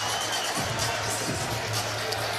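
A large crowd at a Top Rank boxing event cheers and roars in a steady, dense wash of noise, with a commentator talking over it.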